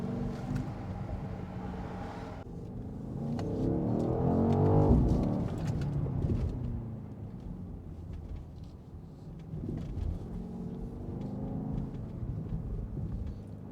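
Low burbling exhaust from a 2023 BMW XM, heard from inside the cabin on a night drive with a window cracked open, a deep rumble that swells and fades against steady road and wind noise.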